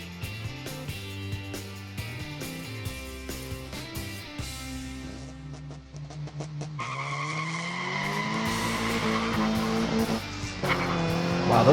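1/64 scale diecast muscle cars, including a classic Cougar, racing down a toy track, with rolling wheel noise and squealing, skidding sounds building steadily louder toward the finish, no talk.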